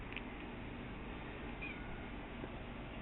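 A cat meows once near the start, a short faint call over steady background hiss and low room noise, with nothing else prominent afterward.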